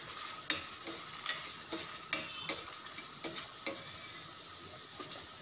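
Spices including fenugreek dry-roast in a pan over medium heat for sambar, with a light sizzle under a regular run of metal spoon scrapes and taps against the pan.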